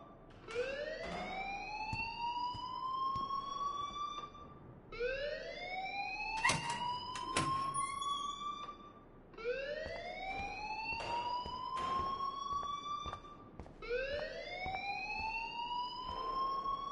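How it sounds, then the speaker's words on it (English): A siren-like alarm in the video game Life is Strange wails in four rising sweeps, each climbing in pitch and holding before restarting, loud and continuous with brief sharp clanks layered over it. "please turn off that alarm since that's your job"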